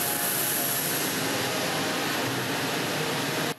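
Engines of the Russian presidential jet spool up with a steady, loud broadband roar as the aircraft accelerates for takeoff after a visit to North Korea, holding constant throughout with a high whine on top.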